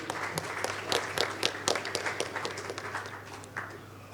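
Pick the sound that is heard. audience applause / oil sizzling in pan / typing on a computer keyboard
audience applause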